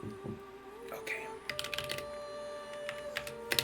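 Computer keyboard typing comes in quick bursts of clicks over a steady electronic hum, with talk from people nearby.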